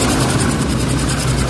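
Toyota Fortuner engine running with a loud abnormal noise, a heavy continuous rumbling drone with a rapid pulsing beat, close and steady for the whole short stretch.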